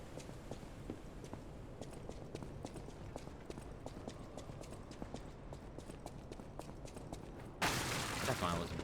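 A donkey's hooves clip-clop in quick, regular steps at moderate distance for most of the stretch, and a louder burst of noise cuts in near the end.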